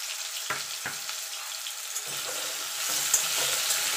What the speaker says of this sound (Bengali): এবার লাল লাল করে ভেজে তুলে নেব।